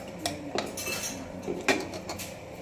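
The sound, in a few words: mixing beef curry in pot with spoon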